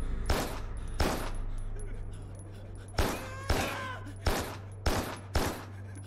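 Gunfire from the video game Carrion rings out in sharp, loud bursts, a pair of shots followed later by a tight cluster of four, over a steady low game hum and some speech.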